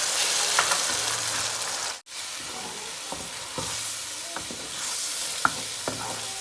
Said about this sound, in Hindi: अब इसमें मैं टमाटर डाल दूंगी।